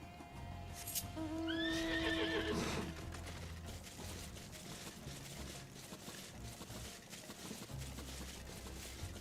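A horse in Final Fantasy XIV lets out a loud rising neigh about a second in, followed by steady clip-clopping hooves and ambient game sound continuing for several seconds.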